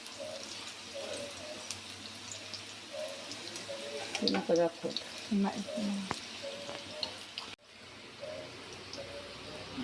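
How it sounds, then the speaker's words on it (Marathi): Leftover chapati slices frying in a little oil to make crisp bhakarwadi: a steady close sizzle with a burst of clattering stirring and spattering in the middle before it settles back to frying. "आता तेलामध्ये थोडंसं तेल घालून तळून घ्यायचं"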